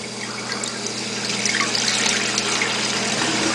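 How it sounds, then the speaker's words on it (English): Steady water runs from a tap, a continuous rushing hiss with faint splashing, close by and growing slightly stronger. "This is what happens when you turn the water on."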